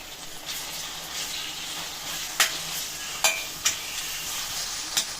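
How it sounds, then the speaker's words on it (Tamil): Chopped tomato and vegetables fry in oil in a pan with a soft, steady sizzle, broken by several sharp clinks and scrapes of a spoon stirring against the pan. "இந்த எண்ணெயிலேயே நம்ம தக்காளி சேர்த்துக்கிடலாம்"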